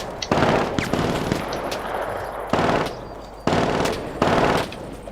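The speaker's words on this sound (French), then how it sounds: "on nous tire dessus." Bursts of automatic gunfire in the battle royale game Cuisine Royale, several loud rapid volleys separated by brief pauses, with no talking.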